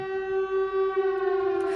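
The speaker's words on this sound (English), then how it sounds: "And now I think mostly the sirens are because of the fires" A civil defense siren holding a long, steady, piercing tone, loud and constant throughout, heard from a documentary with no voices over it.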